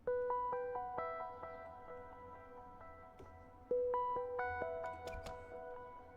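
Atmospheric synth from the Diva synthesizer in a deep trance, chill house track, playing bright bell-like sustained tones in a stepping melodic pattern that rises and repeats, with soft decaying tails, moderately quiet.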